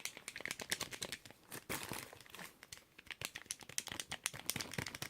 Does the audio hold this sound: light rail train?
no